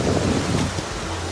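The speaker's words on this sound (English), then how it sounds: "So we're going to the ocean. The Atlantic Ocean right now." Atlantic Ocean waves and wind at the shore, a loud, close rush of surf with wind buffeting the microphone, easing slightly partway through.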